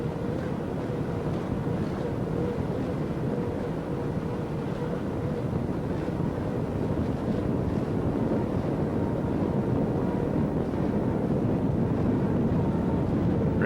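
Super Cat offshore racing powerboats at the 2006 OSS World Championships off Destin, Florida, a continuous loud engine roar mixed with rushing wind and water, steady throughout with no voices.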